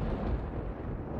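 A deep, rumbling thunder roll from lightning in the video game Oblivion, loud and broadband with heavy low end, sustained across the whole brief moment with one stronger swell near its start.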